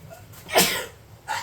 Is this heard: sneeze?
yes